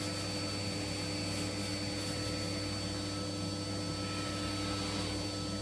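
A hoover runs continuously while vacuuming out a Jotul F100 wood burning stove, a steady droning whine with a constant tonal hum, fairly close and uninterrupted, with no talking.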